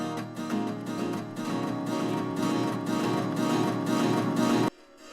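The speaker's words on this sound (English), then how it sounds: "the more feedback you have, the more and more echoes you get." Acoustic guitar run through a delay with the feedback raised, repeats stacking into a dense, gradually louder wash of echoes that stops sharply just before the end.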